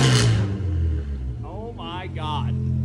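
A Subaru engine fitted with a new loud exhaust idles with a deep steady rumble and then revs up once indoors, while a person talks over it.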